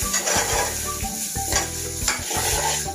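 Chicken thoran being stirred in a hot pan with black pepper powder, garam masala and turmeric, a steady close sizzle of frying spices broken by repeated scraping stir strokes throughout.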